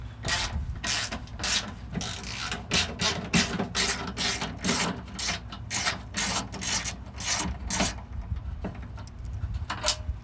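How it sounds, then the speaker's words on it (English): Ratchet wrench clicking repeatedly while turning a bolt on a hood strut of a 1990s SN95 Ford Mustang, close up, a steady run of sharp ratcheting bursts with faint rubbing between them and no talking. "If I can get the ratchet to go the right way."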